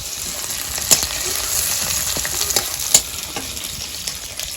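Steady sizzling of chopped onion and garlic frying in hot oil, with a couple of sharp clicks of a utensil against the pan.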